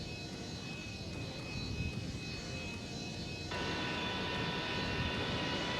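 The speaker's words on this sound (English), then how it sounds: "The pilot taxis out, then takes off." A Harrier jet's engine whines and roars in a steady, broad drone as the aircraft taxis out, with a clear step up in intensity partway through and no talk.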